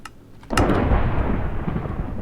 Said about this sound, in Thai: เสียงฝนมันดังมากเลย